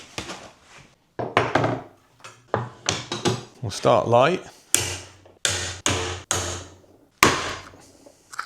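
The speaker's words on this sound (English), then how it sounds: "let's give it a bash with a hammer and see what it does" Repeated sharp hammer strikes hit a hard plastic feather board, about a dozen blows at an irregular pace, with someone speaking briefly between them.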